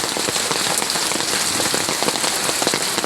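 Steady, dense rain pours onto a farm, a loud continuous hiss of drops striking surfaces without a break and with no voices.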